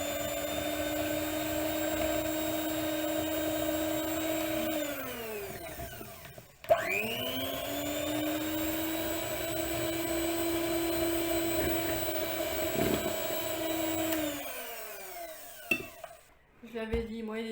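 An electric hand mixer whirs steadily while making biscuits, its pitch sagging as the motor slows and stops, then spinning back up for a long run before winding down again, close and loud.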